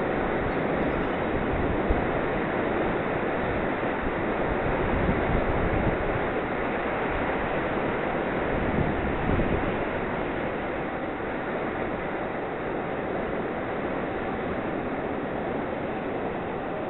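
Steady roar of Mediterranean surf breaking against sharp rocks at Petit Gaou island, Six-Fours-les-Plages, France, a continuous heavy wash of water with wind noise, no voices.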